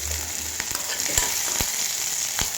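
Green chillies frying in hot oil in a pan, a continuous sizzle broken by sharp irregular pops and splutters, several distinct crackles scattered across a few seconds, with no talk.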